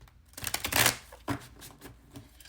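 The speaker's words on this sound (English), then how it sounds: "This is the 4th shuffle." A deck of tarot cards is shuffled by hand, close riffling flutters in a few quick bursts with short pauses between.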